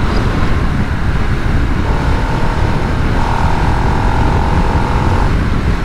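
A 2022 Harley-Davidson Nightster 975 engine pulls at full throttle on the road, a loud, steady roar mixed with heavy wind rush, holding a sustained rising tone through the middle stretch.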